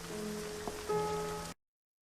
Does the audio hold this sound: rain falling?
yes